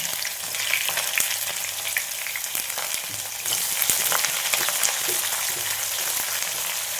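Sliced onions sizzle steadily in hot oil for a vegetable stew, a dense continuous frying hiss with faint stirring clicks, growing a little louder midway and carrying on alone without any voices.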